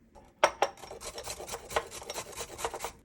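Cucumber grated by hand for tzatziki sauce, a steady run of close, rough rasping strokes with a few sharper scrapes, rhythmic and alone without speech.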